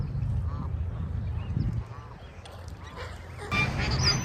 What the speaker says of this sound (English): All these birdies out here.